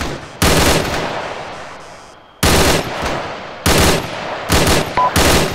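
Friendly machine gun fire in Arma 3, heard as several loud, close bursts of rapid automatic shots separated by short pauses, each burst cutting off sharply, with no talking over it.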